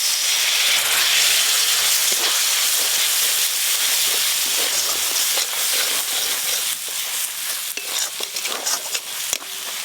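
A splash of water hits hot masala frying with coriander powder for an egg curry, giving a loud, continuous close hiss and sizzle that fades slightly with scattered stirring clicks near the end, no talk.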